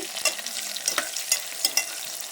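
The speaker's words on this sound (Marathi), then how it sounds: "कांदा टाकला चांगलं गुलाबी होऊ द्यायचं ते" Onion, cumin and mustard seeds frying in a pan give a constant crackling sizzle, broken by several sharp scrapes and clicks from a spoon stirring. The sound is close and has no talk.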